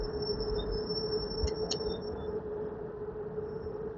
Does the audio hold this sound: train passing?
yes